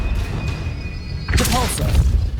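A Stupefy spell cast in Hogwarts Legacy hits with a sudden bright boom partway through, following a low hum, with a voice shouting over it.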